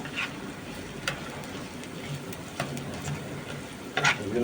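Chicken keema with chopped green chilies and onion cooking in a pan, a soft continuous sizzle broken by a few brief scraping stirs, close and fairly quiet.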